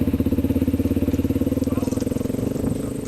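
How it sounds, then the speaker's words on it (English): Cammed Honda XR 400 with a 440 kit running an XR-only exhaust, a loud, close, rhythmic off-road four-stroke thump idling and revving steadily throughout. "XR's only exhaust on a cammed up 400 with the 440 kit."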